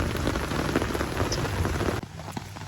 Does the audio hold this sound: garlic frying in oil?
no